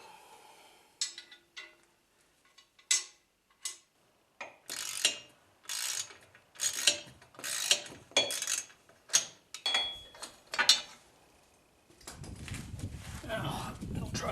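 Ratchet wrench clicking in short repeated bursts as bolts are started on a Kemimoto rear bumper for a 2023 CFMoto ZForce 950 HO EX, close and fairly loud, followed by a rougher rustling noise near the end.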